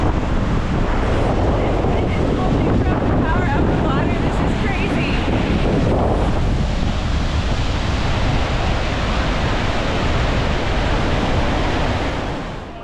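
A powerful waterfall on Yosemite's Mist Trail roars as a constant, dense wash of noise, loud and unbroken, with wind buffeting the microphone.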